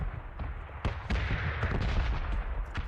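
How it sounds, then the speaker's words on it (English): Suppressed M24 sniper rifle shots in a video game crack out as several sharp, separate reports over a busy background of game noise, moderately loud and with no talking. "M24 with the suppressor sounds really fun"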